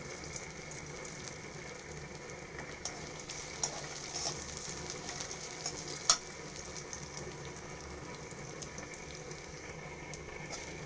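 Cumin seeds sizzle quietly in hot oil: a faint, even frying hiss with a few soft ticks and one small sharp click, no speech.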